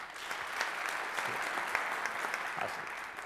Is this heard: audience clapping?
yes